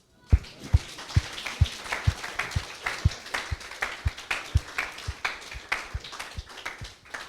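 A church congregation claps in a steady rhythmic beat, each sharp clap distinct and evenly spaced, moderately near.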